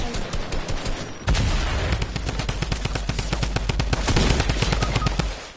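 Thompson submachine gun firing in a video game, rapid loud bursts of automatic fire after a brief pause, the shots coming fast and continuous for several seconds; no one talks.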